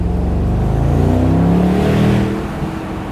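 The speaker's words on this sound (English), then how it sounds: "let's hit that exhaust button. Oh, listen to that rumble" A deep, throaty V8 exhaust from a 2023 Mercedes-AMG SL63 rumbles steadily up close, swelling slightly as the engine revs before easing back.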